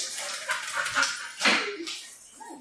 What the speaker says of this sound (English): This is our dog, Daisy.